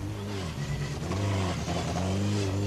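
A rally car at the 1984 Manx Rally driving through a hairpin, its engine revving loudly and close with rising and falling pitch as it accelerates.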